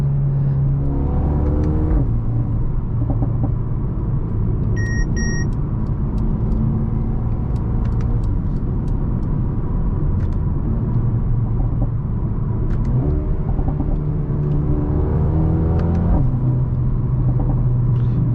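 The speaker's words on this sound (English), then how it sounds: "We can try how this car drives." A Mercedes-AMG A35 drives on an open road outside the city, its engine rumbling steadily and rising through several rev climbs and gear changes, close and continuous with no talking.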